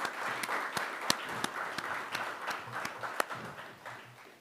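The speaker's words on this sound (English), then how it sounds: "I think we should give him a round of applause" A small audience at a conference press event gives a brief round of applause, scattered, loose claps of moderate loudness that stay fairly sparse.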